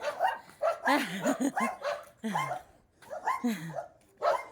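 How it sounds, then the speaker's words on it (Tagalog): Several dogs bark in quick bursts during a morning walk, mixed with people talking; the barking comes in clusters across the clip at moderate loudness. "Maingay yung mga aso sa gilid-gilid."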